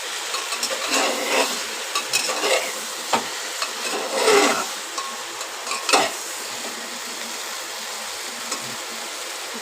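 An egg is added to a pan of sautéed masala with a splash of water, then stirred; soft sizzling runs throughout with scattered scraping and clinks of a spoon against the pan, no voices.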